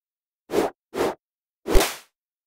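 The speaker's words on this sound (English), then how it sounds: "The whoosh you heard came from a helicopter model." Three short whooshes sweep past, two quick ones close together and then a longer, fuller swish after a pause, each clean against silence.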